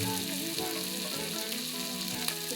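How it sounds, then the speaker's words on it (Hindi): Tomatoes fry in a pan for Assamese-style pork with black lentils, a soft, steady sizzle with faint stirring, overlaid by a low tonal hum or background music, fairly quiet throughout. "इसे तब तक फ्राई कर लीजिए जब तक ये टमाटर थोड़ा पक न जाए।"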